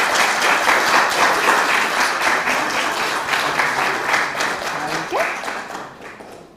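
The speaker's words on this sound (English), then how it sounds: "So, Harrison, can we give him a round of applause?" A congregation at a church service applauds warmly for several seconds, the steady clapping slowly tapering off toward the end.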